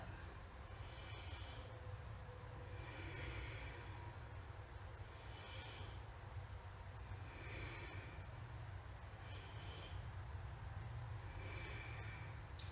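Slow, steady yoga breaths during an early morning class, with soft breathy swells recurring every couple of seconds over a constant low hum, quiet and close with no talking.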